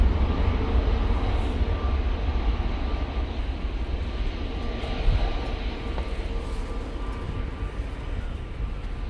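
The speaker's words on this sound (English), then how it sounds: "Coming in from Dublin, EasyJet 737-800" An EasyJet Boeing 737-800 arriving from Dublin at windy Manchester Airport gives a steady, moderately distant jet rumble, broad and fairly even throughout with faint higher whine.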